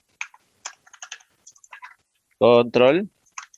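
Someone types the Ctrl+Shift+O shortcut in Excel on a computer keyboard, with light, scattered key clicks that are interrupted midway by a brief burst of loud voice.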